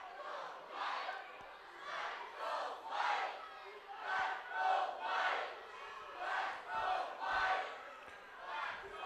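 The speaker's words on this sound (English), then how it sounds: "Mountain View cheering section working on their colors." A high school football cheering section in the Mountain View vs Los Gatos game chants in a steady, rhythmic pattern of repeated bursts, a distant crowd roar rising and falling.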